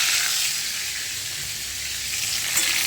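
Fish heads frying in hot oil until reddened give a loud, even, close sizzle that hisses continuously, with a slight rise near the end.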